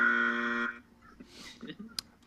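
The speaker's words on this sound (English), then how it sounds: "And I got a buzzer." A short electric buzzer sounds loud and steady for well under a second, then cuts off, followed by faint talk and small background noises.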